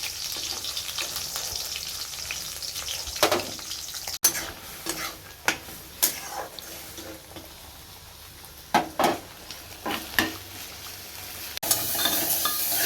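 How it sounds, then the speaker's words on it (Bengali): Brinjal and onion curry frying in a pan with black cumin and green chilli: a steady sizzle broken by repeated stirring scrapes and clicks, close and fairly loud, with no voices. "এখানে কালো জিরে কাঁচা লঙ্কা পেঁয়াজ দিয়ে বেগুনের ভাজা ভাজা তরকারিটা হচ্ছে"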